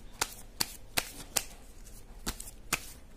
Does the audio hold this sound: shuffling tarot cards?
yes